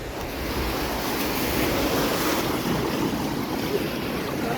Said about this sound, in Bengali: দেখো ঢেউটা কেমন আসছে